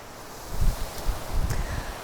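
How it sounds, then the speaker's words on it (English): Gusts of wind blow through an apple orchard, producing low rumbling buffets on the microphone with soft leafy rustling in a few short bursts. "Oh my gosh, it's windy."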